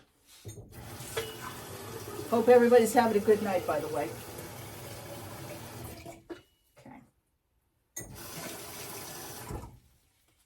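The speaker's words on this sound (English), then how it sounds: "Let's fill this with water." Tap water runs steadily into a 40-ounce Stanley tumbler mug for several seconds, with a person talking over the pour before it stops. A short second burst of running water follows.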